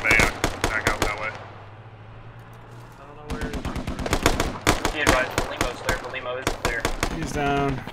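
Automatic gunfire rattles in rapid bursts in the military shooter game Squad, loud and sharp with a pause midway, while a voice talks over parts of the shooting.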